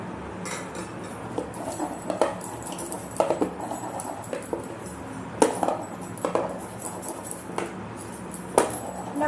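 Egg biryani rice and spices being stirred together in a pot, with scattered scraping and clinking of a utensil against the pot in irregular bursts, fairly close and moderate in level, with no talk.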